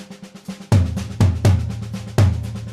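Tom drums played in a drum clinic demonstration, a few loud resonant hits spaced apart with booming low decays, standing alone after a quieter lead-in.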